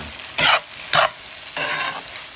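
Bitter gourd (ampalaya) being stirred as it fries in a pan, with three loud sizzling bursts standing out over a steady low hiss, close and with no talking.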